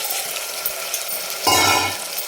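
Mutton drops into fried onions and hot oil, giving a sudden sizzling burst amid light stirring and utensil clinks, close by.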